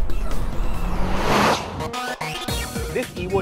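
A turbocharged Mitsubishi Lancer Evo X with its aluminium-block 4B11 engine drives past, a loud rising engine rush that swells then cuts away, followed by quieter road noise and a voice.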